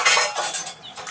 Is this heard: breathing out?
no